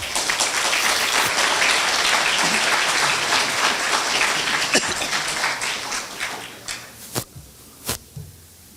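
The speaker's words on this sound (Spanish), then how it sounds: "lo recibamos con un cálido voto de aplausos" An audience at an academic conference on constitutional law in Peru applauds: dense, loud clapping fills the room for several seconds, then thins out into a handful of scattered, distinct claps before stopping.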